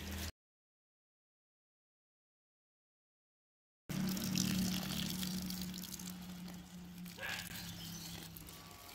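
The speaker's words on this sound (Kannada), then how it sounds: "ಇವಾಗ ನೀರು ಹಾಕಬೇಕು. ನಾನು ಚೆಂಬಲ್ಲಿ ಹಾಕ್ತಾ ಇದ್ದೇನೆ" Water pours slowly from a small pot onto a newly planted sapling, making a steady close splashing trickle that starts after a stretch of complete silence.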